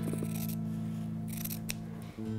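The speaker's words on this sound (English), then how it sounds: "So taking my scissors, I'm going to cut about a seam allowance of 1/4 inch." Scissors cutting fabric for a patchwork blanket, giving a couple of close, crisp snips over a steady low hum.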